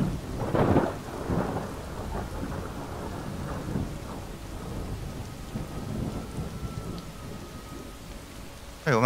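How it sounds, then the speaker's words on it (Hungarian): In Skyrim, a thunderstorm with steady rain rumbles: a heavy thunder crack early on rolls into a long low grumble over continuous rainfall, with another sharp burst right at the end. "Úgyis majd szétesett a fejem a villámlástól."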